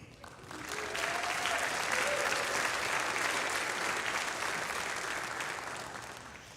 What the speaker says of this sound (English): I hope that you'll save that same applause for the end